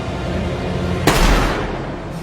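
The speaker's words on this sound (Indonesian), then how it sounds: "Polisi datang dengan sebuah tembakan yang berhasil melumpuhkan si rampok" A single sharp police gunshot in a film cracks out over a low, tense film score, its blast ringing briefly before fading back under the music.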